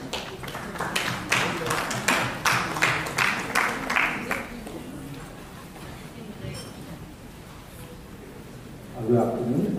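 A small audience at a cancer care conference gives a short round of applause for a doctor taking the stage. The sparse, uneven claps fade out after about four seconds, leaving a quiet room before a voice begins.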